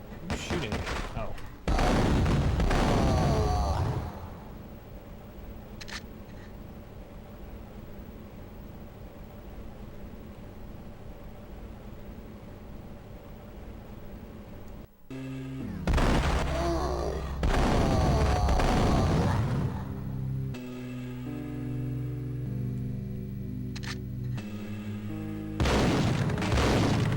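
Gunfire in the Game Boy Advance version of Max Payne comes in sharp, loud bursts of shots separated by quieter stretches, with a person talking in between.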